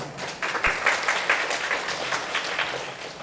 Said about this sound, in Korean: 따뜻한 박수로 선생님 맞이해 주시면 감사하겠습니다